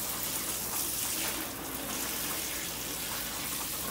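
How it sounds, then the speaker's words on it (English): Water runs steadily from a camper sink tap while rinsing it out, a constant near hiss and gush that stays even throughout with no talking. "So we're gonna make sure everything's rinsed off real good."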